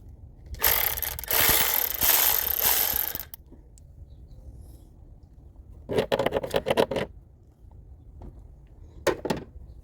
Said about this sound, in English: just remove these two 10mm bolts